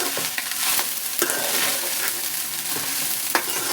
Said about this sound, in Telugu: హై ఫ్లేమ్లోనే పెట్టి టాస్ చేసుకోవాలి ఇది బాగా.